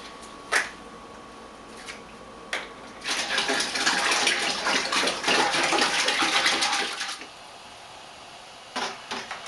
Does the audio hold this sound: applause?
no